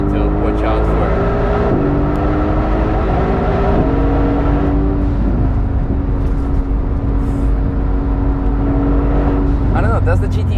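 A Mercedes-AMG GT S with a fault, driven on the Nürburgring, revs and shifts with engine tones stepping up and down, then gives sharp hissy bursts as the throttle lifts, loud and close with talk over it.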